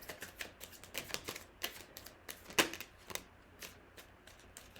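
Tarot cards being shuffled and drawn, with quiet, close riffling and crisp card snaps arriving in an irregular string of soft bursts.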